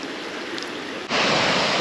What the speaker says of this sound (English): Right beside this little stream.